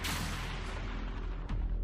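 Weapon fire from the video game Zone of the Enders: The 2nd Runner, a heavy booming blast with a rumbling low-end tail and a second sharp hit near the end, loud and close with no talk.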